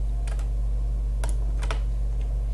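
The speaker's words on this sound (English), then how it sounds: "press the delete button on the keyboard" Several sharp computer keyboard key presses in a short burst, then a pair of quick taps and a faint final click, close and clear over a steady low hum, with no talking.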